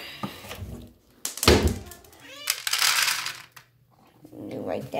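A hungry cat meows several times at close range, with a loud thump and some clattering as it is fed, while a person talks to it in a soft, cooing voice.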